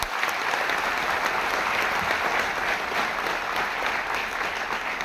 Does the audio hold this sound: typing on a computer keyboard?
no